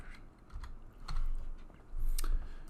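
Typing on a computer keyboard to enter a search term, a short run of close, light key clicks in uneven bursts over a low background rumble, with no talking.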